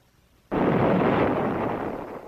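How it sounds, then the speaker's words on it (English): A water heater tank explodes, its copper tubing and control lines torn upward, giving a sudden broadband blast that holds as a sustained roaring rush for nearly two seconds with no talking. "As the tank explodes, the copper tubing and control lines are ripped up into the air with the tank."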